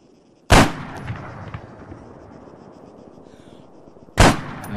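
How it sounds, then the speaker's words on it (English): Two sharp, loud sniper rifle shots in the Arma 3 video game, the first striking a wall just in front of the shooter, separated by about four seconds of low rumbling ambience. "I could tell from the sound there I was actually shooting the wall in front of me"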